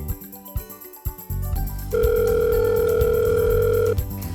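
A telephone call is placed: a few clicks and handling sounds come first, then a loud, steady ringback tone holds for about two seconds before cutting off.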